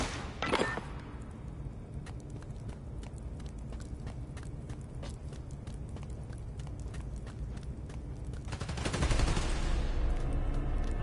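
Gunfire in a Spider-Man game as shots hit power station transformers: a steady run of sharp, clicking shots throughout, with louder crashing bursts at the very start and again near the end.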